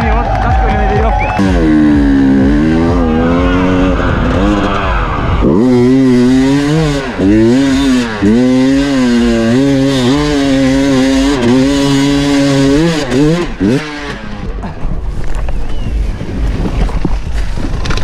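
An enduro motorcycle engine revs hard at the Red Bull Romaniacs race, a loud rising and falling whine that wavers across repeated throttle surges, under heavy wind noise and with people talking.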